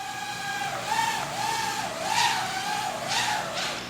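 A mini toy drone whines steadily as it flies in to land on a tile, its rotor pitch rising and falling in repeated swells over about four seconds, fairly close and without talk.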